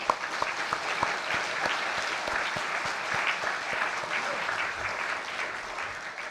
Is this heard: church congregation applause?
yes